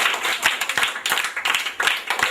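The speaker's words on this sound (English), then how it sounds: "A round of applause for him, please." An audience at a schools debate applauds a speaker: brisk, close clapping in uneven bursts, with brief dips between rounds.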